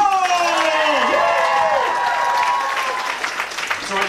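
Applause and cheering fill a comedy show at The Rivoli, with a voice gliding in a loud pitched whoop over the clapping crowd that continues to the end.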